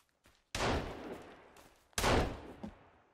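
Two loud, close gunshots from a companion shooting in the video game Sons of the Forest, each a sharp blast with a decaying tail, spaced about a second and a half apart.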